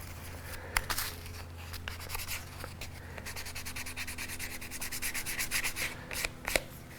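Light, steady rubbing of sandpaper over primer on a plastic model car body, close and quiet, with a few sharper scuffs near the end and no talk.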